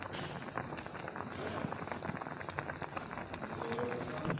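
Chicken adobo simmering in a pot with water and vinegar, a steady bubbling boil with soft popping and crackle running continuously at moderate level, no voices.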